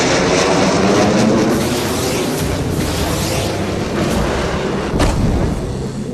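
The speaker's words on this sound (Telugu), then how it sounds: "యుద్ధ మేఘాలను చీల్చే ఫైటర్ జెట్లు" Fighter jets flying overhead, a loud, sustained roar with a heavy rumbling low end and a sharper burst near the end.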